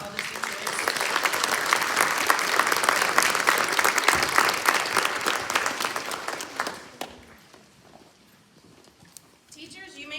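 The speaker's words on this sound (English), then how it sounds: "So please give a round of applause to all the teachers." Applause from a school ceremony audience for middle school teachers at a National Junior Honor Society event, a loud dense wash of clapping that fades out after about seven seconds, leaving quiet room sound and faint voices.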